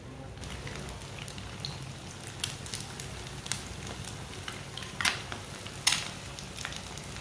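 Egg pieces dipped in gram flour batter fry in hot oil, giving a steady close sizzle and crackle with occasional louder pops and spatters, with no talking.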